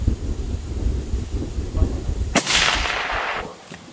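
One sharp rifle shot cracks out at an outdoor shooting range during a freedom festival, ringing off in a long fading tail after a stretch of low windy rumble.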